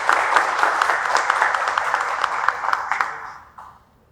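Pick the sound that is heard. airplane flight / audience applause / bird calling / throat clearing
audience applause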